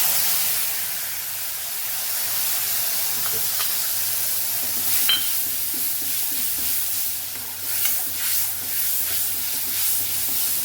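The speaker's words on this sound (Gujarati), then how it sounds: "5 ચમચી જેટલી હિંગ ઉમેરશું અને આપણે જે મસાલો તૈયાર કરેલો હોય અહીં ઉમેરીને સાતળી લેશું" Asafoetida and a prepared spice mix sizzle in hot oil, giving a loud, steady frying hiss close by, broken by small crackles and the occasional scrape of stirring.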